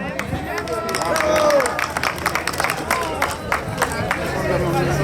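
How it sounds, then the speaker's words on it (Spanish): Relatives at a family Santiago celebration applaud for Uncle Gregorio, hands clapping in a lively burst over loud chatter and babble from the gathered party. "Un aplauso, a ver, para el tío Gregorio."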